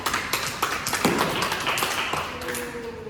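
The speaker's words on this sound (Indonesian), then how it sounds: "Silakan tepuk tangan pada kawan kita." Classmates in a classroom clap for a fellow student, a short burst of scattered, uneven hand claps that fades over about three seconds.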